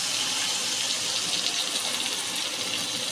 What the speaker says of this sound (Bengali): তো এখানে আমি পরিমাণ মতো জল দিয়ে দিচ্ছি।